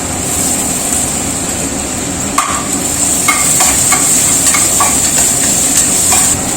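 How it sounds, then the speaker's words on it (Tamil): Onions fry in a pan on a home stove, giving a loud, continuous hiss and sizzle close up, with intermittent light clicks and scrapes of stirring mixed in throughout. "வெங்காயம் போட்டோம்மா வதங்கிட்டோம்"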